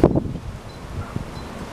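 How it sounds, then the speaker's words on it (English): Strong outdoor wind buffets and rumbles against a close microphone in uneven gusts, with some rustling, no voices heard. "Why is it so windy out here?"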